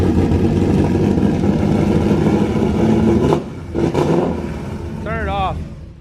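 A badly flooded car engine revs roughly, spitting a ton of fuel out the exhaust, loud and close with sputtering breaks; someone talks over it.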